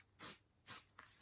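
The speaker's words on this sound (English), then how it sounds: "I'll spray this from below though." A spray paint can mists Mechanicus grey onto a terrain model in two short hissing bursts and a brief third puff, quiet and close with no talking.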